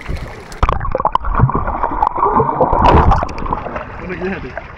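Swimmers plunge beneath clear open water, with splashing, sloshing and gurgling bursts close by and a voice or two around the dip.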